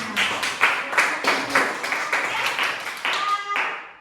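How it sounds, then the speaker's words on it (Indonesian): A classroom of students claps for a classmate, a steady run of brisk applause lasting several seconds with some voices mixed in. "Oke, beri aplaus untuk temannya."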